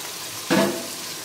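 Meat (gosht) hitting a hot pot with onions for Sindhi biryani, a sudden close sizzle burst that flares then settles into a softer hiss, heard alone.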